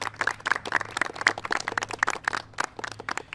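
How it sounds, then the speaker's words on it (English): Scattered hands clap in a loose, uneven patter for the congressional delegation at a Hurricane Ida recovery event in New York, with moderately faint claps carrying through a large room. "Let's have the congressional delegation. A round of applause for them."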